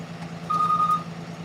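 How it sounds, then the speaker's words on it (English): A very large truck idles at a roof-work site, a low steady engine rumble under a single sustained reversing beep partway through. "Have you guys ever seen a truck this big?"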